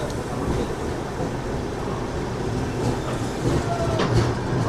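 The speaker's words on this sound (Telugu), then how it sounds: "తిరుమల ఎక్స్ప్రెస్ వచ్చింది" The Tirumala Express arrives at Tirupati station, a continuous loud rumble of the approaching train with faint brief squeals, no talk.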